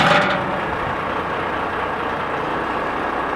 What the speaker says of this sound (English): Your engine's now started.